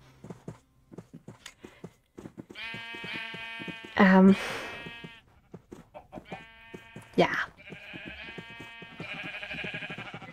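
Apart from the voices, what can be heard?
pink sheep bleating in the video game Minecraft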